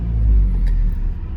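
A car with a 4G engine, flagged for catalytic converter fault codes P0421 and P0431, runs at a steady idle, giving a continuous close low rumble with no speech.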